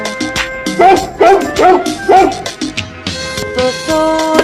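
A dog bark in a Hindi children's rhyme, sung as a short run of bright, bouncy "bow-wow"-style yips over a busy musical backing, probably a voice imitating the barking, loud and up front.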